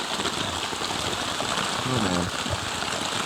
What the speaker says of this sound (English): It's raining so hard right now that my tarp actually came flying down, and I got just poured on.